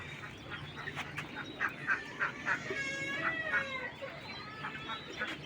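King quail kept in a netted enclosure, giving faint, repeated high chirps and calls at a distance over a low background hum.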